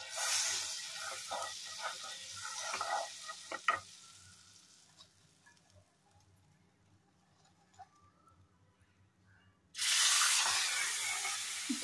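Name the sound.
paneer frying in butter in a wok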